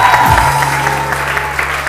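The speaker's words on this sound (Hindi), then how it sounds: "तालियां शालियां हो जाए।" Studio audience on a Hindi-language TV morning show breaks into clapping, close and fairly loud, with a low hum and a brief low rumble at the start under steady applause.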